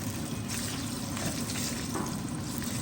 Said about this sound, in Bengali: যতক্ষণ না পর্যন্ত সুন্দর স্মেল একটা বের হবে ততক্ষণ মরিচের কুক করবেন